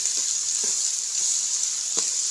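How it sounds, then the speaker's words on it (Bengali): Ginger and garlic frying in hot oil for a home-cooked duck dish, a steady bright sizzle that runs throughout, with a few soft knocks of stirring at intervals. "আদা রসুন দিয়ে একটু ভাজবো"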